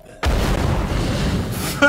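A grenade explosion in the State of Decay 2 game: a sudden loud boom that rumbles on with a dense, sustained roar for well over a second, then a brief second burst at the end.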